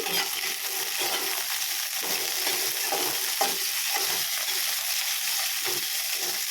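Green chillies sizzle steadily in oil in a pan while being stirred, a continuous dense crackle with scraping stir strokes throughout, close and fairly loud.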